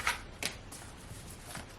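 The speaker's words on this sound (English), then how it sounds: "I want to shuffle from this deck" A deck of tarot cards is shuffled in a quiet room, giving a few quick papery riffles and soft slaps spaced through a short moment, close and fairly faint.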